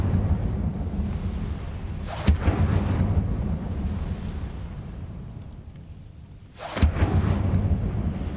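Two sharp, loud bursts of the Incendio fire spell in Hogwarts Legacy crack out, each followed by a roaring, rumbling whoosh over a steady low ambient bed, spaced a few seconds apart.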